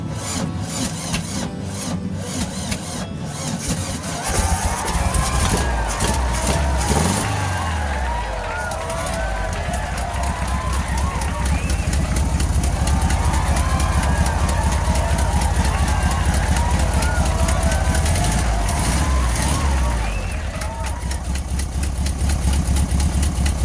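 A 1968 VW Bus engine cranks and catches, then settles into a steady, loud idle with an exhaust leak and timing slightly off, the rumble running continuously and close while a voice speaks briefly near the start.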